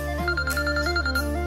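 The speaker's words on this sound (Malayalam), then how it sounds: "അത് ബെല്ലടിക്കുന്നു." A telephone rings with a repeating electronic ringtone melody, steady and fairly loud over a constant low hum, with no voices, at night in a home drama scene.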